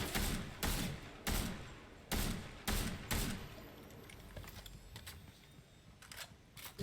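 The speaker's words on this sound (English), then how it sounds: "There are some gunshots again from behind" Gunfire in the Fortnite video game comes from behind as a run of about seven loud, evenly spaced shots, followed by a quieter patter of more distant shots.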